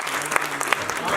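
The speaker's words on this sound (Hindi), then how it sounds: "मैं चाहूँगा कि थोड़ी तालियां बजा के हौसला अफजाई करिएगा" Applause from an audience at an Urdu poetry gathering, a short burst of many hands clapping at moderate level with a faint tonal hum underneath.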